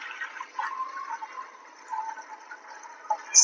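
Water is poured off a soaked batter mixture for bibde dough, a soft, faint trickle and splash running gently and unevenly for a few seconds.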